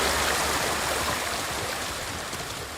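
Loud rushing stream water in the video game Ghost of Tsushima, a steady broadband wash filling the whole clip at close range with no voices.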